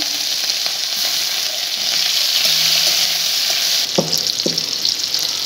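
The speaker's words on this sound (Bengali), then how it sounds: "এবার ফোড়নের উপরে খোসা ছাড়ানো চিংড়ি মাছ দিয়ে দিচ্ছি।" Peeled shrimp sizzle loudly in hot oil over a mustard-seed spice tempering, a steady dense frying hiss with a few sharp utensil knocks near the end, close by and without talk.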